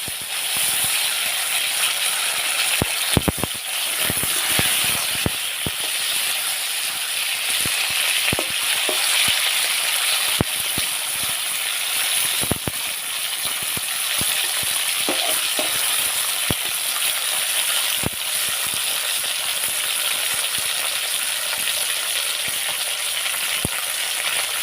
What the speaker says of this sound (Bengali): এই দেখুন আমার সিমটা কিন্তু ভাজা ভাজা হয়ে এসছে